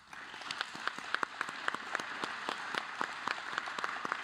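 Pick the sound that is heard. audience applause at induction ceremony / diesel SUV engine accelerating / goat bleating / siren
audience applause at induction ceremony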